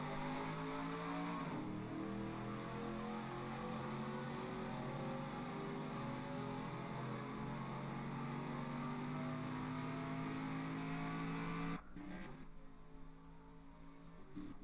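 Stock car engine heard from onboard at the Daytona race start, a loud continuous droning roar that climbs steadily in pitch, then drops abruptly as the throttle lifts near the end.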